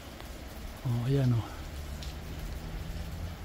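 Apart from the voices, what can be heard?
rain falling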